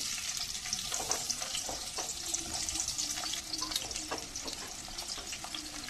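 Onions dropped into hot oil with mustard seeds and cumin for a ridge gourd curry, giving a steady, loud, close sizzle and crackle with scattered pops throughout, and no talking.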